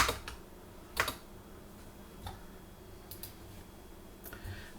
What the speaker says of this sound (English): let's just launch a browser of your choice and type in VirtualBox